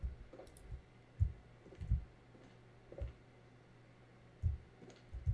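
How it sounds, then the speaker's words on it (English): Several soft, isolated computer keyboard key presses come irregularly and faintly over a low background hum while a horror game is played. "I'm hitting keys on my keyboard now,"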